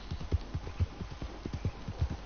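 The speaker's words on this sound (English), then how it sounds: "my things have fallen off your horse, Ash." In the Red Dead Redemption 2 video game, a horse's hooves clip-clop at a steady walking rhythm, close and moderately loud, with no voices over them.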